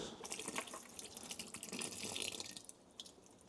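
Baby items rinsed under a running tap into a sink, a steady close splashing of water with small drips and clatter, continuous for a few seconds with no talking.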